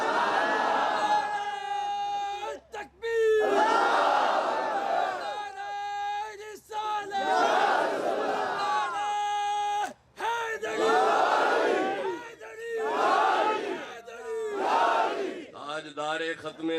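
At a religious gathering, a large crowd chants devotional slogans in unison, roaring out in loud repeated bursts with short gaps between each call.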